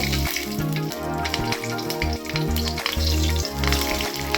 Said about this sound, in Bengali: এবার তাতে কালো জিরে কাঁচা লঙ্কা ফোড়ন দেব।